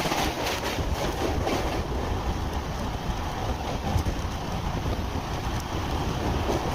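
The MAS LTT SF Express from Chennai Central to Lokmanya Tilak runs steadily along the rails with a continuous rumbling roar and faint rhythmic clickety-clack, heard close and constant throughout.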